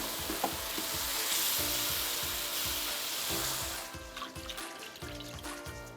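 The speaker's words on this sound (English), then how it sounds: "Whisking as you go, but be careful you don't steam yourself." Broth poured and whisked into a roux in a loudly sizzling pan, a steady hiss that quiets and turns bubbly partway through.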